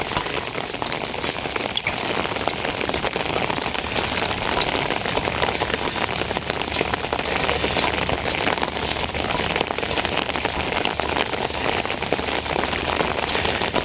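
Steady heavy rain patters on the ground and water at a riverbank, a dense, constant hiss that continues loud and unbroken throughout with no voices.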